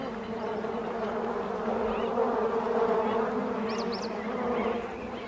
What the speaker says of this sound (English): She tries a pit, but finds it full of bees.